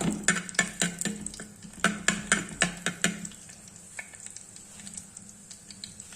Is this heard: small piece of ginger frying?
yes